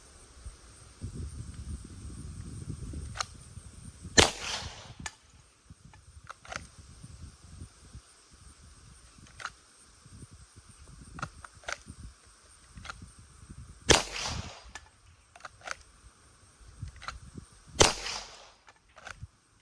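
Handgun slides being racked, several sharp metallic clacks at intervals, some single and some in quick pairs, against a quiet background with faint light handling noises between them and no talk.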